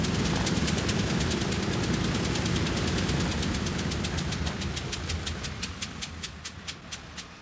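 A B-29 bomber's piston engine runs steadily and loudly, with a rapid rhythmic clatter over a deep rumble that eases slightly toward the end; no voices.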